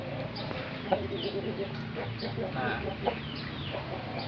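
Chickens being treated for a face fungus infection cluck softly and intermittently near the listener, with a person speaking over the low, steady barnyard clucking.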